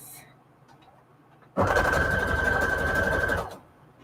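A sewing machine runs a zigzag stitch set to length 3 and width 5, stitching trim in a steady, loud burst of about two seconds that starts and stops abruptly, with quiet room tone before and after.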